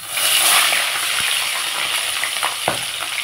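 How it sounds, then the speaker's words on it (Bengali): A fish head, rubbed with salt and turmeric, frying in hot oil: a close, steady sizzle with a few small pops and spatters. "মাছের মাথাটা আমার ভাজা হয়ে গেছে"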